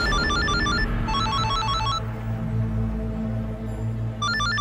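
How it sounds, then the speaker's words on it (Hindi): A telephone ringtone plays loud and close, a repeating melodic pattern of short bright notes in bursts with a pause midway before it starts again. "फोन की आवाज कहाँ से आ रही?"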